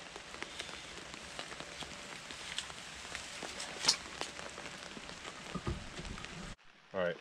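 Steady rain pattering on a surface around a homestead greenhouse, a dense even hiss running throughout with occasional louder drops and a few footsteps, cutting off sharply near the end.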